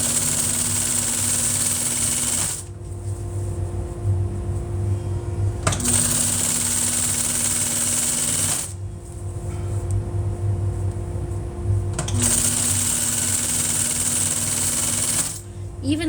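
Upholstery sewing machine stitching welt trim, running in fast mechanical bursts of whirring and clatter separated by short pauses, with a steady motor hum underneath.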